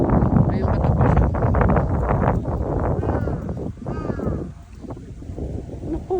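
Breezy air at a scenic outdoor spot, a continuous windy rush over the microphone with people talking over it and the wind easing somewhat toward the end.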